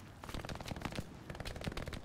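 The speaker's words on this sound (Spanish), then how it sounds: "te están llegando balazos por ahí" Rapid gunfire crackles in the World War II shooter game Hell Let Loose, dense bursts of shots rattling quietly as though from a distance, without talk.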